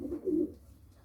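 A pigeon gives one short, low coo up close, which then fades into quiet.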